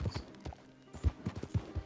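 Horse hooves clopping in the Red Dead Online video game, an irregular run of soft thuds at close range with no voices.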